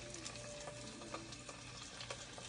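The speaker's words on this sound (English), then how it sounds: "Time to put the steaks back. Get them a little fry real quick." Tri-tip steaks frying in a hot pan give off a steady, dense sizzle that stays even and close throughout, with a few faint crackles and pops.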